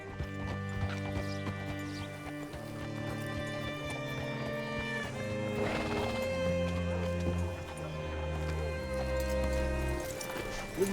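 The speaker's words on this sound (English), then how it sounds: "Hitch your horse up here." Horse hooves clip-clop steadily and a horse neighs in Red Dead Redemption 2, set against continuous game music with sustained tones.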